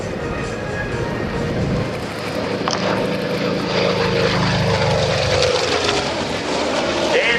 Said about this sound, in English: Listen to the sound now of the P-47 Thunderbolt.